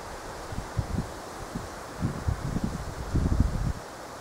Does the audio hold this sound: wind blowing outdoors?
yes